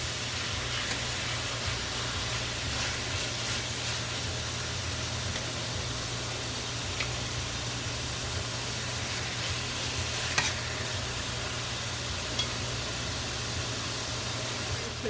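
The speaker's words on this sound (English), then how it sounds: "Let it saute a little longer." Pork pieces sautéing in a hot pan for Portuguese carne de porco à alentejana, a steady close sizzle with faint stirring and no talk.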